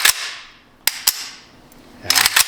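A custom AK rifle fires sharp, close shots: one at the start, two quick shots near the middle, then a rapid cluster at the end, with quiet between.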